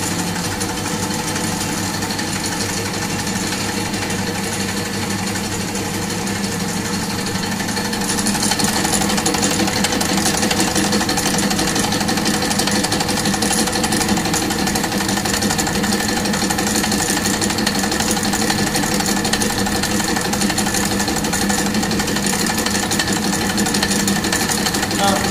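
A reciprocating pump runs steadily in a fluid mechanics lab, a loud continuous mechanical hum with rhythmic knocking that grows slightly louder partway through as the outlet is closed, with faint talk in the background.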